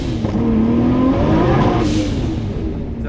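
A Nissan Skyline R32 GTR engine revs up loudly and close, with rising tones and a hissing release from the blow-off valve as the throttle lets off.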